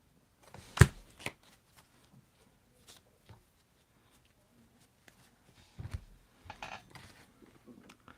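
Tarot cards are handled and the top card drawn: a sharp snap of cardstock, then soft scattered shuffling and sliding of cards, close and quiet with long silences between.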